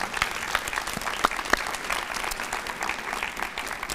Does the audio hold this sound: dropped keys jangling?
no